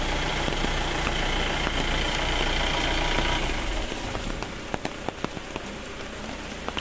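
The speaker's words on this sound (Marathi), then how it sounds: "पाऊस पडता भरपूरा." Heavy monsoon rain pours steadily on surfaces in a village, a dense loud wash that thins partway through, leaving scattered drips and taps.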